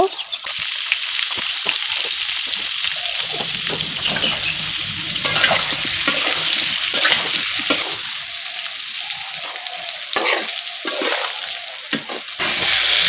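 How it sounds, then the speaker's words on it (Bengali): Potatoes and pointed gourd fry in oil in a wok with chili and turmeric powder, a loud continuous sizzle broken by repeated stirring scrapes, with no talk over it. "প্রথমেই আমি কড়াইয়ে তেল দিয়ে সেই তেলে আলু পটলগুলো সুন্দর করে ভেজে নেব"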